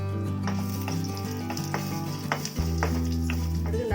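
Onions go into hot oil already crackling with cumin, fennel and a chili for palu pavakkai sambar, setting off a loud, close, continuous sizzle with bursts of spitting and stirring.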